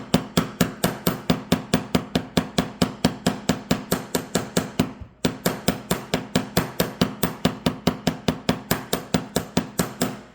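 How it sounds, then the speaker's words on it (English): Small hammer repeatedly striking a wire earring loop to flatten and fan out its bottom, in a steady, close, evenly paced run of about forty sharp taps with one brief pause midway, no voices. "I'm just going to start hammering and fanning out the bottom"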